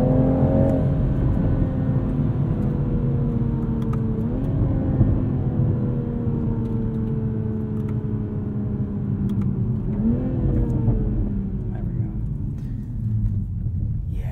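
A 2021 Toyota Supra 3.0 Premium in sport mode revs through rising pulls, its engine note climbing steadily with two brief dips at gear changes, heard from inside the cabin as a loud, continuous drone.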